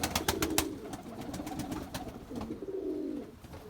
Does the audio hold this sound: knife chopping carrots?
no